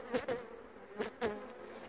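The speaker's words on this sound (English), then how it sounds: "try not to think about all the bees that are trying to kill me right now." Honeybees swarm around an open hive being inspected for queen cells, several bees whizzing past close by in quick buzzing passes over a constant hum.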